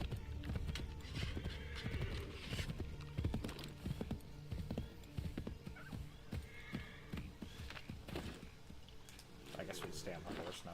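Horse galloping in Assassin's Creed III: a rapid continuous clip-clop of hooves with an occasional whinny, close and busy throughout, with a voice talking over it.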